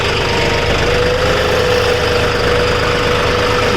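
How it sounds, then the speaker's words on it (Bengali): A John Deere 5210 GearPro tractor hauls a trolley on a dusty track, its engine running in a steady, loud, close drone with a constant low hum and a knocking rumble throughout, with no voices. "5210 গিয়ার প্রো ট্রলি চলছে গাইস"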